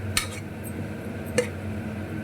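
Potatoes being stirred into a paneer curry in a pan, with soft scraping and two sharp spoon clinks against the pan over a low cooking hum.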